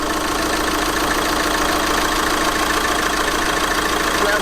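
A van engine idles close by with a steady, even, loud rumble and hum that runs unbroken throughout, with no voices.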